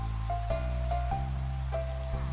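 Steady rain falls in the Minecraft video game, a continuous close hiss of drops on surfaces with no talk, while tonal game sounds sit faintly underneath.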